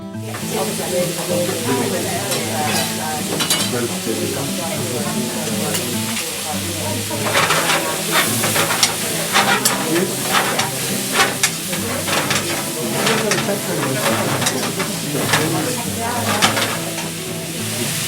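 Vegetable soup with noodles is stirred in a pan, giving a steady wet sizzle with scraping and sloshing throughout, fairly close and louder in the second half.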